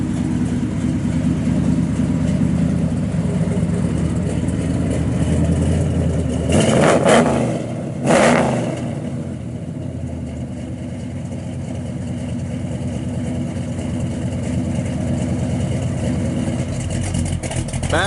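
A 1972 Chevrolet Chevelle SS Malibu with a 396 engine rumbles at a steady loud idle, then gives two sharp revs in quick succession before settling back into a deep, continuous exhaust burble.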